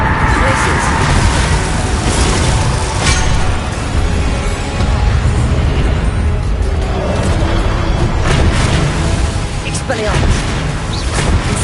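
Spell blasts going off in the Hogwarts Legacy video game, the Confringo and Repulso charms, with loud booming bursts over dense continuous battle noise, a voice calling out spell names throughout.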